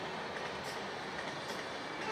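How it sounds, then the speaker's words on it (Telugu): A train passes at a distance on a hillside trek, heard as a steady, broadband rumble and hiss that holds evenly throughout with no talking over it. "అదిగోండి అక్కడ ట్రైన్ కూడా వెళ్తుంది"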